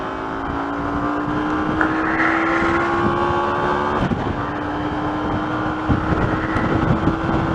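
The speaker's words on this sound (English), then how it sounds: "This bike is now being allowed to rev, which is what it's supposed to do." Upjetted motorcycle engine revving freely while riding, a loud sustained drone whose pitch climbs steadily, drops with a gear change and climbs again, with wind rushing past the microphone.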